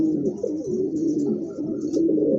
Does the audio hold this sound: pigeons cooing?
yes